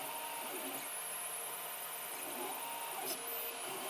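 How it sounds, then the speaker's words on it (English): An ABS part printing on a 3D printer with a 235-degree nozzle and 110-degree heated bed, a faint, steady mechanical whir with a soft stepping hum and a brief higher whine near the end. "I'm printing ABS with 235 on the nozzle there, 110 on the heat bed."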